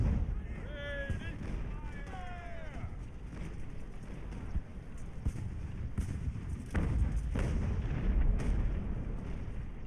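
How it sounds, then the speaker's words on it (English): Mortar rounds strike massed troops in the naval-era strategy game Ultimate Admiral: Age of Sail, heard as a series of sharp, booming impacts and crackling blasts over a busy battle din, with a whistling tone early on. "Always nice when the mortars get a good hit."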